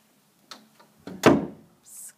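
A house door swings shut with a few light creaks and taps, then a solid close thump, followed by a soft brushing hiss.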